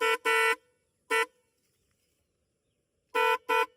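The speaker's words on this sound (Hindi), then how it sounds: "हॉर्न ये डलवा रखे पोंपो वाले," Pom-pom style horns fitted to a Hero Splendor motorcycle honk in loud, close toots: a quick double blast, a single, then another pair after a quiet gap, each a bright buzzy tone with silence between.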